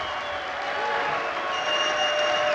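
Darts crowd at a European Darts event clapping and cheering on their feet, a dense continuous wall of applause that swells slightly toward the end.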